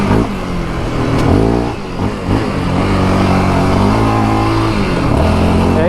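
A new 2024 Yamaha Raptor 700R SE ATV's stock engine revs hard and close-up, its roar rising and falling through throttle blips and holding at high pitch in a steady, loud drone.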